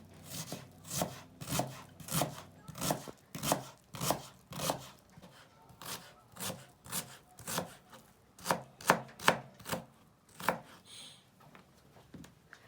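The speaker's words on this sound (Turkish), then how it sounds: "bir yandan ben de semizotunu doğrayacağım" A knife chops purslane steadily on a cutting board, a long run of crisp, close taps with brief pauses, no voices.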